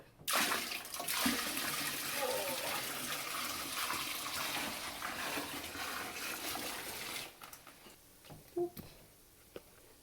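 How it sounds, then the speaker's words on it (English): Water pouring steadily into a homemade wine batch, a loud continuous rushing splash for about seven seconds that stops abruptly, followed by a few faint drips and knocks. "To extend this batch of wine, we're going to add water."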